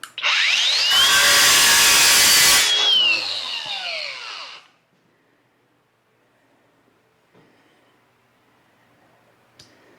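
A cheap Amazon cut-off wheel on an angle grinder bites into clamped metal with a loud, close whine that spins up, grinds steadily for a few seconds, then winds down into near silence.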